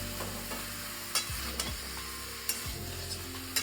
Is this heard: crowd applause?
no